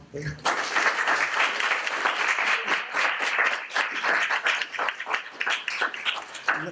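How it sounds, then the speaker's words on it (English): Brisk, dense clapping from an audience thanking panel speakers, starting abruptly and continuing steadily at close range with some voices under it. "Let's give them a round of applause."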